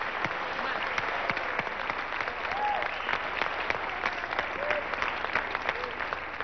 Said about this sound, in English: Ladies and gentlemen, give Max a big round of applause as he makes his way to the stage.